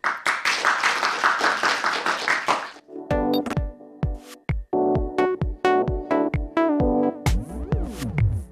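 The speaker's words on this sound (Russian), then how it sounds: "Ваши аплодисменты" An audience claps for the folk ensemble "Golosa" from Kalinkovichi at a televised evening concert. The applause is dense at first, then thins to scattered individual claps while voices sing or talk over it.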